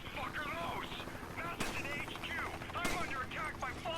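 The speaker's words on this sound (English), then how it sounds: "I like how Sheva's just popping shots" Gunfire in the video game Resident Evil 5, two sharp, loud shots about a second apart, with someone talking continuously over the game's background action.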